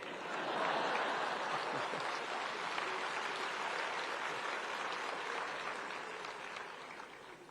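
Applause from a large audience at an education summit addressed by a prime minister, a sustained, dense roar of clapping that stays full for most of its length and eases slightly toward the end.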